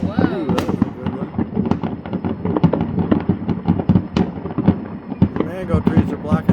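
New Year's midnight fireworks over Kona, Hawaii: dense, continuous crackling and popping bursts at varied distances, with voices talking and exclaiming throughout.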